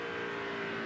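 NASCAR race car engine at the 2002 Pennsylvania 500, a short, steady, faint high-pitched engine whine at speed.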